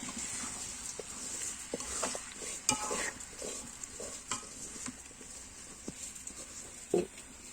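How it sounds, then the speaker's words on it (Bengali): Rice being fried in a pan for home-cooked chicken biryani, heard as quiet intermittent scraping stir strokes over a faint, steady sizzle, with a few sharper knocks of the utensil. "এখন চালটা ভাজা"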